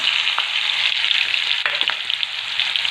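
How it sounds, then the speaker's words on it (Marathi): A garlic and green chili thecha fries in a spoonful of hot oil in a pan. A dense, loud, close sizzle continues throughout, with a few faint scrapes and no voices. "एक चमचा तेल छान प्रकारे असं तापलेलं आहे पहा त्यामध्ये आपल्याला आता जो आपण ठेचा भरून घेतला आहे ना तो घालून घ्यायचा"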